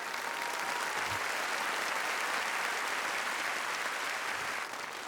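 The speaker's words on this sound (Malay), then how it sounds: "Berikan tepukan semua." Steady, dense applause from a large audience at the Bulan Bahasa 2025 launch event in Singapore, continuing loudly and evenly throughout without fading.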